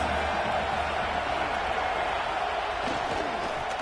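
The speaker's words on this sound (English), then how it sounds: "This crowd trying to make life miserable for this offense." Steady roar of a Michigan football stadium crowd during a game, a dense continuous wash of noise with no breaks, loud and filling the space.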